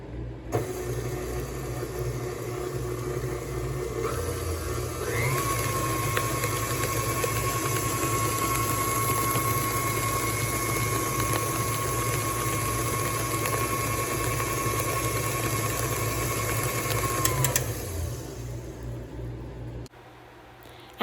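Electric stand mixer whirring steadily while blending wet ingredients for vegan sugar cookies, a sustained motor hum with a rising whine that holds for about twelve seconds before spinning down.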